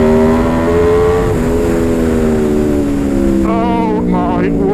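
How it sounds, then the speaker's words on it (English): A 2019 Aprilia RSV4 1100 Factory sport motorcycle running a Euro 4 road-legal exhaust with baffles and catalytic converter, roaring loud and close with steady harmonic engine tone that rises into sharp revving and gear-change warbles near the end. "that exhaust is fully road legal"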